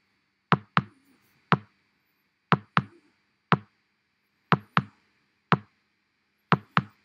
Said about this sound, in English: I'm going to put a kick in the first grid on the first beat and in the third grid on the first and second.